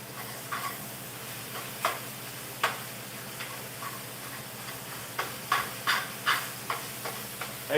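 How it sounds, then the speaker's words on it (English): Ground beef stirred in a hot pan during meal prep: a steady low sizzle with a string of sharp scraping and tapping strokes from the utensil, fairly close and with no voices. "let's mix up this ground beef"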